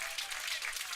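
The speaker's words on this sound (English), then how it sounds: "Big round of applause for Miss Daisy" Crowd applause at a summer collegiate baseball game between the Harrisonburg Turks and Strasburg Express, steady broadband clapping from the stands, moderately loud and continuous throughout.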